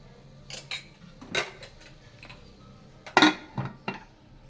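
A metal lid set on a cooking pot while making Tamil tomato rice, several light clinks and clanks of metal spaced over a few seconds, close and fairly soft, with no talking.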